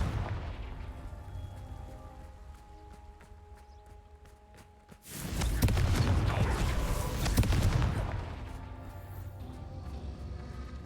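A Confringo fire spell explodes in a Harry Potter video game, a sudden loud burst after quiet footsteps, followed by a few seconds of crackling, roaring debris before it fades.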